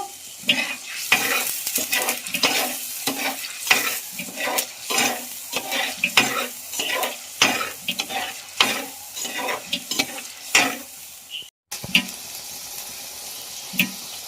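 Curry leaves frying in oil in a pan for a homestyle fish curry, close crackling sizzle under brisk rhythmic stirring strokes, with a brief cut near the end before the frying resumes.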